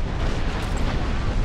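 Ship cannons fire in a naval battle in Assassin's Creed Rogue, a dense, continuous roar of booming blasts and rumble that fills the whole short stretch.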